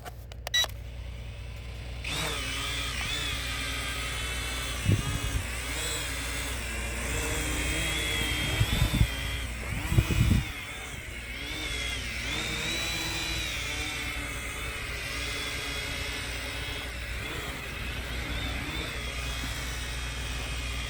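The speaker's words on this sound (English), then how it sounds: "I just want to show you that I'm trying out my drone" A small drone flying nearby outdoors, its rotors producing a steady, wavering high whine with shifting pitch throughout, with a few brief louder thumps in the middle.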